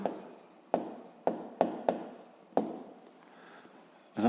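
Pen writing by hand on paper while working a physics exercise, a series of sharp close strokes and taps in uneven rhythm with soft scratching between them, no talk.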